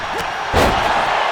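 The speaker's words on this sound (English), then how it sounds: "Look at Rowan just manhandling his opponent into the side slam." A side slam in the wrestling game WWE 2K25: one sharp, loud body impact on the mat, followed by a sustained arena crowd rumble.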